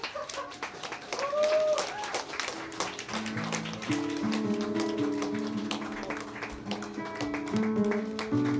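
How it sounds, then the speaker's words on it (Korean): Guests at a wedding party give welcoming applause, a run of crisp, fairly close claps that continues throughout while music with sustained tones plays underneath. "여러분 환영의 박수로 맞이해 주시기 바랍니다"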